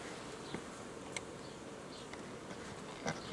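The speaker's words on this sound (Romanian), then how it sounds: "Aici este familia de albina." Constant buzzing of a honeybee colony at its hive, a dense low drone with occasional louder passes of individual bees nearby.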